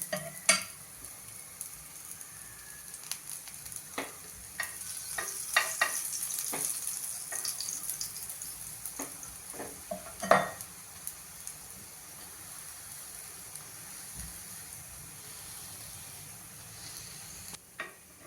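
A Marathi-style lifafa paratha roasts in a pan, giving a soft, continuous sizzle with scattered crackles and an occasional louder pop, quiet and close with no talking.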